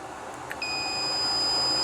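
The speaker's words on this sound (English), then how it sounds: "It's already beeping." A solar panel inverter with a low battery gives a high, steady electronic alarm tone that begins partway in and holds, fairly faint, over a quiet background hum.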